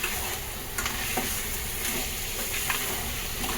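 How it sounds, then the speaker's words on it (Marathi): Crab masala sizzles and crackles steadily in a hot pan over a gas flame as it is stirred and sautéed, a dense, continuous frying hiss close up with occasional scraping, no talk. "मसाल्यात मस्त घेतलं परतून"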